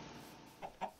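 A Minecraft chicken clucks, two short soft clucks close together near the end after a quiet stretch, faint and alone.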